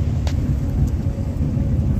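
A car rolls along a road near the Bhima river with a low, steady rumble of engine and tyres and a rattling, shaking cabin, plus a faint knock near the start.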